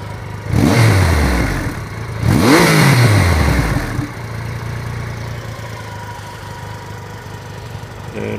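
A Triumph Rocket R motorcycle with twin exhausts revs hard twice in close succession, each rev climbing then falling away, before settling into a steady rumbling idle, close and loud with no talk.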